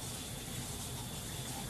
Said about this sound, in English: I just realized that I need to rinse the tongs that I was using earlier